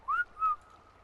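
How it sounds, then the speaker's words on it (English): Two short rising whistle tones from an in-game whistle command in Ark: Aberration, clear and close, the second slightly longer, over near silence. "Let's go out here and J-whistle him."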